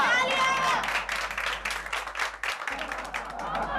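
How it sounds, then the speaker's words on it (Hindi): Studio audience applause in a Hindi TV sitcom as a woman is welcomed with a bouquet, a dense, steady wash of clapping from a crowd that carries through the whole stretch with slight dips. "तालियां।"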